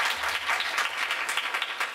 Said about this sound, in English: Give me a warm applause.